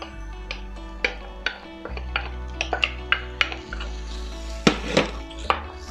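A utensil scraping and knocking against a pot while meat and potato stew is stirred, giving irregular sharp clinks and taps over a steady low background hum.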